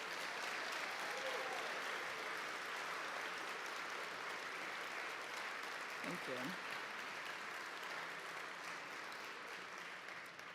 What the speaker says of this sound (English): if you wouldn't mind giving them one collective round of applause.